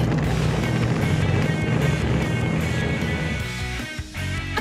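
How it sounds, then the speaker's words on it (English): A car drives close by with a loud, rumbling engine drone that holds fairly steady, then fades and turns uneven near the end, with no voices over it. "Yes! You're amazing! It's a car!"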